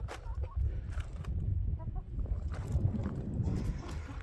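Chickens cluck softly in a farmyard, with a rooster and scattered faint calls over a low rumbling background and no one speaking.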